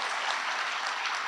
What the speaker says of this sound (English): I request all of you to welcome him with a round of applause.